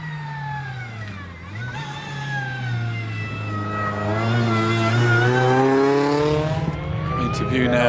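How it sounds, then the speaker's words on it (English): A Westfield 7 racing car with a 2-litre Z-Tech engine climbs a hillclimb course, its engine revving loudly and steadily, pitch sweeping up and down through the gears as the car passes nearby. "Owen in the Westfield 7 2-litre Z-Tech power."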